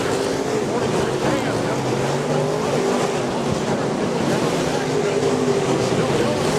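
USRA Ironman stock cars roar around Rapid Speedway in a steady, loud wash of engine noise that never lets up, with an announcer's voice faintly audible beneath.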